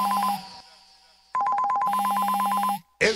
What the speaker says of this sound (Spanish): Cuando suena tu celular hasta te espantas